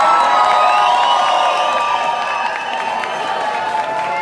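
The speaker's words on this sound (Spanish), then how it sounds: "Bueno, aplausos para la gala número 3." At the KuirFest Bogotá 2018 closing gala, an audience keeps up a loud wash of cheering and applause with shrill whoops riding on top, easing slightly toward the end.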